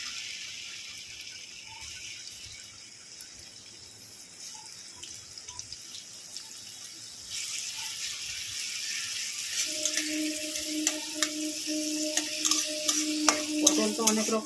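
Onion frying in refined white oil in a kadai, a quiet crackling sizzle that grows louder partway through, with stirring clicks and scrapes over the steady frying hiss.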